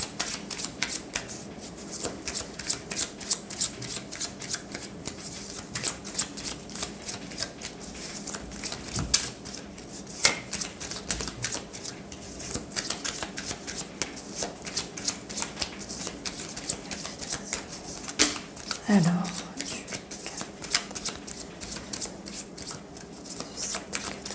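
Tarot cards are shuffled for a reading, giving a continuous run of quick, crisp riffling and soft slapping of card against card at a close, moderate level, with a few louder taps along the way.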